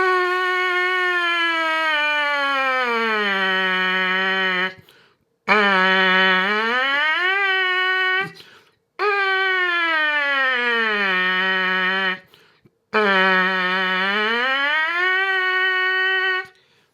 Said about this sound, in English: Then what I'll do is do a siren, but going down.